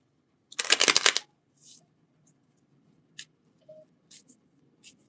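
Oracle cards being shuffled in a quick riffling burst lasting under a second, followed by soft scattered taps and card handling sounds in a quiet room.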